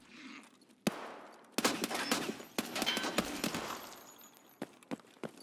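Gunfire in the video game Escape from Tarkov: a burst of sharp, loud shots fired in quick succession, followed by several more spaced single reports and some fainter distant cracks.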